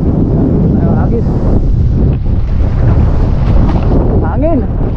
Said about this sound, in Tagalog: Hinahangin ang lambat.